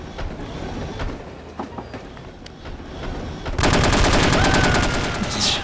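Aboard a train in the spy game No One Lives Forever, a dense rumbling ride noise with clattering, rhythmic rattles grows louder and busier partway through, a steady mechanical din with no voices.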